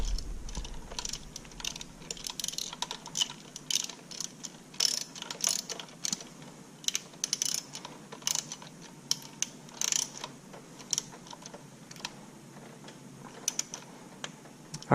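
Close, steady clicking of a ratchet wrench fitted with a swivel socket as it slowly turns a retaining bolt during sensor removal on a supercharged Chevrolet SS, in quick irregular bursts with short pauses and no talking.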